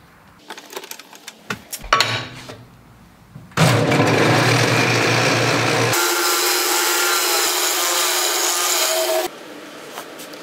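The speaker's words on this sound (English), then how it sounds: "Now it's off to the sander to fine tune it" A power sander grinds an aluminum linkage piece for a Honda Goldwing bobber, starting after some close handling clatter, then running loud and steady with a shift in pitch midway before cutting down near the end.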